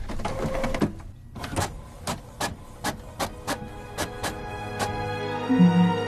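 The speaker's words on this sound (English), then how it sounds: "Now printing." A printer running a job, loaded with magenta ink: a steady run of evenly spaced mechanical clicks and whirring passes, fairly close and alone, ending in a louder grinding feed.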